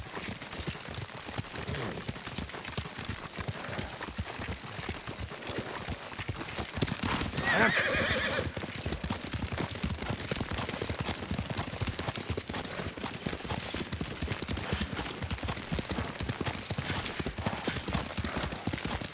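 Rhythmic hoof clip-clop of a horse being ridden in the video game Ghost of Tsushima, a steady galloping patter throughout with a brief whinny partway in, layered under game ambience.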